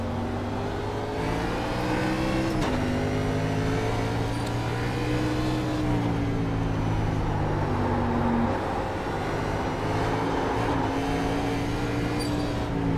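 A NASCAR race car engine in iRacing at Watkins Glen drones steadily, its pitch dropping sharply once and later stepping through further gear changes as it pulls away, loud and alone.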